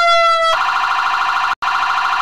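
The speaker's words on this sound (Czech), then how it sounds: "Jo, ty sanitky jsou fakt uřvaný, ale to je správně." Loud, close American ambulance sirens in the game Arma. A piercing electronic tone shifts into a rapid warbling wail and cuts out for an instant before resuming.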